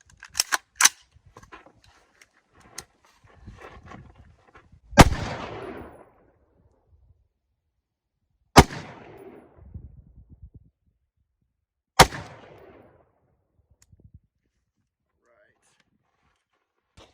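Rifle shots ring out at a shooting range, a few sharp cracks spaced several seconds apart with brief decaying echoes, plus faint handling clicks in between.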